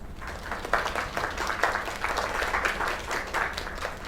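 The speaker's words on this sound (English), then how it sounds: "Another round of applause." An audience claps in a steady, moderately loud round of applause, continuous with no voices rising above it.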